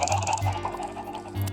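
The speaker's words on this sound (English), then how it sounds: "The noise of those chickens is dreadful, isn't it?" Clucking chickens on a video game farm, a repeated low pulsing cackle that rises and falls steadily through the clip, loud and close with no talk over it.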